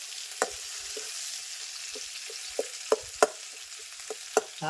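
Spices sputtering in a hot pan, a soft continuous sizzle broken by scattered sharp pops and crackles, close by and moderately loud, with no voices.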